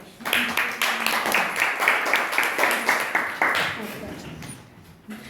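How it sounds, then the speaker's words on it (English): A classroom audience applauds after a Grade 4 student presentation, a dense burst of clapping that swells and holds for several seconds before thinning out. "let's give them another round of applause"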